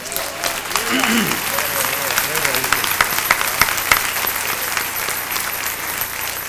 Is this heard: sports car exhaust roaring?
no